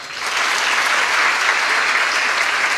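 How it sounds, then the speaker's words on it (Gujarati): Steady applause from a seated audience at a village function honouring parents who have several daughters, a dense wash of clapping filling the whole stretch at constant loudness with no speech. "આ મા બાપને એક વખત તાળીઓથી વધાવો"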